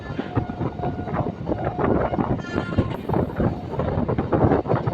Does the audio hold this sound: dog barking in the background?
no